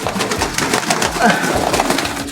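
Pigeons of the Katta Mooku homer breed coo in a close, low, repeated burble, with wing flutters and a faint murmur of voices under the calls.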